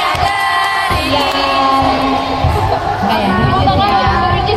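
A crowd of fans at a book discussion event in Tangerang shouts back loudly in unison, a sustained noisy roar of voices with some children among them, filling the room without pause.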